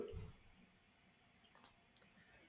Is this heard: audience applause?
no